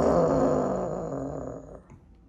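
A person lets out a low, rumbling growl imitating a mother cat to stop a biting kitten, fading away over a couple of seconds.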